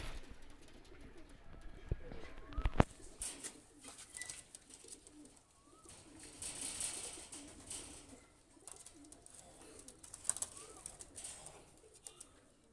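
Pakistani high flyer pigeons coo faintly in low, soft repeated calls against quiet background noise, with a few scattered clicks and no clear talk.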